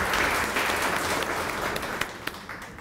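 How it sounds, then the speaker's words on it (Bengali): Audience at a university orientation program clapping steadily, a dense, continuous round of applause that holds for the whole stretch with a few sharper individual claps near the end. "সবাই একটা হাততালি"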